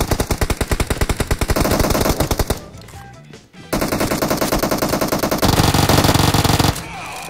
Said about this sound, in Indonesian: Siap-siap ya. Tembak ya.